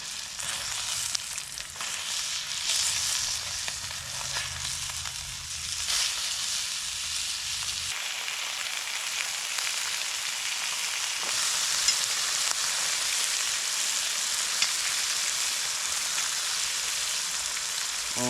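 A steak searing over open campfire flames while car camping in Rocky Mountain National Park, a steady, close hiss and crackle of sizzling fat that runs throughout with no talk.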